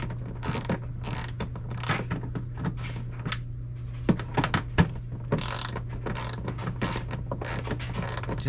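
Hand-tightening a rear spoiler bolt on a 2004 Mitsubishi Montero: a run of small clicking, scraping and creaking turns, close and quiet, repeated in short bursts over a steady low background hum.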